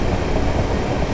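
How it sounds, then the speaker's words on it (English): Loud broadband hiss of the sander on a Class 456 electric train in Train Simulator, a dense continuous roar with no breaks, heard close and alone. "So the sander is quite loud"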